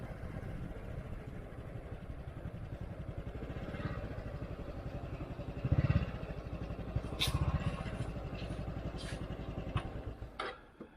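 A motorbike idling close by at a temple in northern Thailand, a steady low engine putter running throughout with a brief louder bump in the middle and faint higher clicks later.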